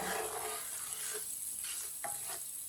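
Ground red chili and turmeric powder cook in very hot oil with the stove switched off, giving a soft steady sizzle with a few brief stirring scrapes, close and alone.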